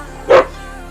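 A single short dog bark, fairly close and clear, standing alone against a quiet background.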